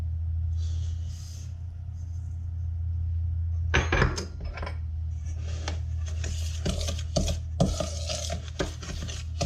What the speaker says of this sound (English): Once you've mixed your melted butter and your granulated sugar